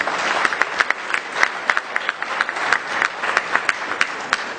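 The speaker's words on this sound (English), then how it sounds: "Please, ladies and gentlemen, I think they deserve a round of applause for the questions asked." A live audience at an Imo 2019 governorship election debate breaks into steady, dense applause with sharp individual claps standing out, sustained and fairly loud throughout.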